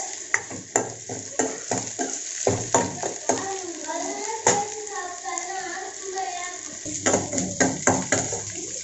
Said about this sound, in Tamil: இப்போது சின்ன வெங்காயம் கொஞ்சமும் பூண்டு சேர்த்தாச்சு. இதை நல்லா வதக்கிக்கலாம்.